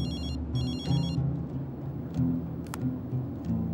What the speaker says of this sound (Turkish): Abi Alper arıyor